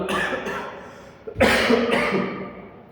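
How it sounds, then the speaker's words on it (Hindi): Several coughs from a man come in a cluster, then a louder, harsher burst of coughing follows, close and clear with no talking. "खांसी बहुत ज़्यादा हो रही है"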